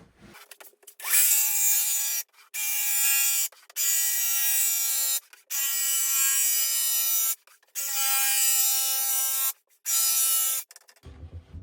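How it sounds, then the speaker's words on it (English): An electric saw trims an IKEA cabinet toe kick in six loud, buzzing cuts of about a second each. Short pauses separate the cuts, and the whine drops away at the end. "we're just going to be trimming with a saw all the way down this line right here. We're going to use an electric saw."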